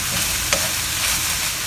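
Pork and garlic stir-fry in a hot pan with a steady, close sizzle and a brief stirring scrape partway through, and no voices.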